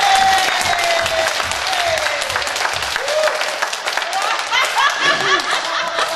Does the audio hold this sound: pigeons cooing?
no